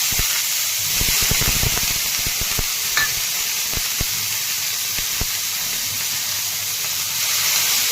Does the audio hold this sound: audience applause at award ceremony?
no